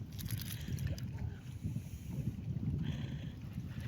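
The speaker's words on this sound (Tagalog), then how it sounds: "Medyo hangin na." Wind gusting outdoors during shrimp catching near the water, a steady low rumble buffeting the microphone for the whole stretch with no talk.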